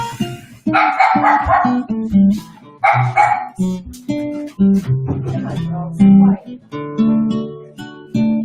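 Several dogs bark and yip excitedly while being given a treat, with loud close barks in quick bursts and repeated runs throughout.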